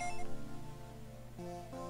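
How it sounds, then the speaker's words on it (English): A phone rings in the video game Dragonball Z Legacy of Goku II: a steady electronic ringing tone of stacked chiptune-like beeps, continuous and fairly loud, with a short break and restart near the end. "The phone's ringing."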